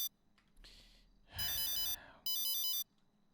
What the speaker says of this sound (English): That's his phone that is ringing, and I cannot turn it off.